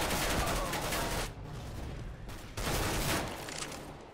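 Rapid bursts of gunfire from Counter-Strike: GO, two dense volleys of close, loud shots separated by a brief pause, with a voice talking faintly in the background.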